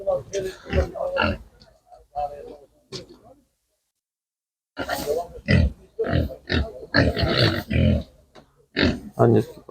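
Piglets grunt and oink at a Ukrainian livestock market, short rough bursts close by with a brief silent gap, mixed with market voices.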